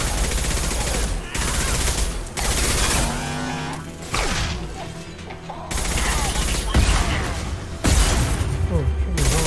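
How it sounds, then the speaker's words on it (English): Impact shot firing in Mass Effect 2, dense booming weapon blasts and gunfire bursts layered with whooshes and battle noise, loud and continuous throughout. "Firing an impact shot."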